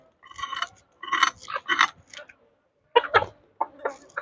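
Chicken clucking close by in a village yard beside fish being cleaned, several short bursts of clucks in irregular clusters with brief quiet gaps.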